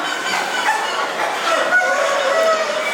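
Brakel hens cluck and murmur continuously at close range, overlapping soft calls from several birds with no talk.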